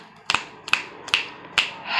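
Four sharp finger snaps or claps, close and crisp, spaced roughly evenly apart in an otherwise quiet room, with no talking.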